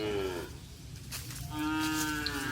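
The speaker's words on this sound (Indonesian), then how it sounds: "Untuk sesi pagi ini ada sapi kecil, guys." Small bulls at a kerapan sapi bull race practice in Pamekasan give two long, loud moos, one fading out and the next rising close by.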